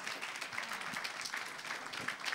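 Scattered applause from a crowd at an awards ceremony, steady and fairly faint, with a little murmuring underneath.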